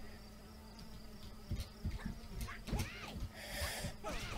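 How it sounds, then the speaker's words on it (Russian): A small fly in the video game New Red Ball 4 buzzes in short bursts over busy game music and sound effects, with brief whining passes standing out near the end. "какая-то маленькая муха нас победила"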